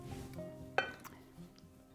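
A spoon or utensil clinks once sharply against a bowl holding mayonnaise while ingredients for hot onion dip are added, followed by a few faint soft scrapes and taps in a quiet kitchen.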